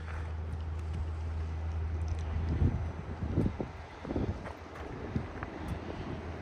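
A 2023 Indian Chieftain Limited motorcycle fitted with slip-on exhausts idles with a low, steady rumble, then gives a few short revs, all heard through heavy wind buffeting on the microphone outdoors.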